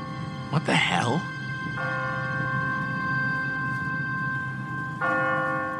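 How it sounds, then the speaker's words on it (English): Automatic church bell on a timer in The Walking Dead video game, tolling with sustained ringing tones that fade, then struck again near the end, heard clearly over a low ambient bed. "No one's ringing that bell. It's automatic. On a timer. What kind of church bell goes off at 20 past the hour?"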